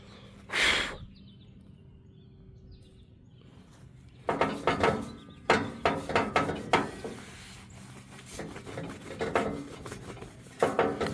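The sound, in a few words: light buffing of gas grill with polishing compound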